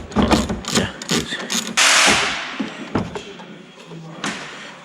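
A ratchet works loose a bolt on a BMW E36 M3 Touring with a series of close, sharp clicks and mechanical clunks, broken by a brief rushing noise in the middle.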